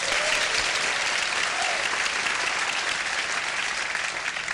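A studio audience on a late-night talk show bursts into sustained applause, a thick even wash of clapping that holds strong for several seconds with no talk over it.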